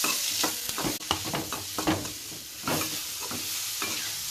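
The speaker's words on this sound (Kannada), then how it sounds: "ಈಗ ಹೆಚ್ಚಿಟ್ಟಂಥ ಈರುಳ್ಳಿಯನ್ನು ಹಾಕಿ ಚೆನ್ನಾಗಿ ಇವನ್ನ ಕಂದು ಬಣ್ಣ ಬರೋವರೆಗೂ ಫ್ರೈ ಮಾಡ್ಕೋತೀನಿ ಅಂತ" Chopped onions fry in oil with dry curry leaves for a masala bread toast, a constant sizzle broken by repeated scraping strokes of a spatula stirring the pan, close and loud.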